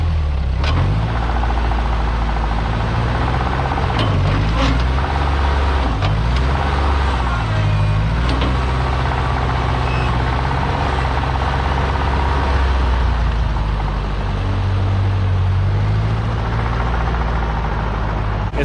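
An old tractor's engine runs loud and steady as it drives off to move dirt, its low rumble rising and falling with changes in throttle the whole time, with no clear talk over it.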